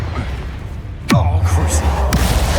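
A Confringo fire blast spell from the game Hogwarts Legacy, a sharp whooshing burst that erupts into a loud, sustained roaring rumble, set against steady game ambience.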